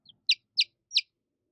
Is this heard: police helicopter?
no